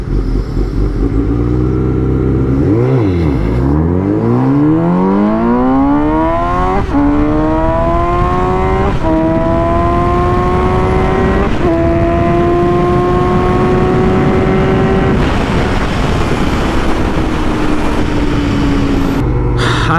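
A Suzuki GSX-S 750 and a Yamaha MT-09 drag racing, engines roaring loudly from launch and climbing through several gear shifts in a long sustained run, close and continuous with no talk.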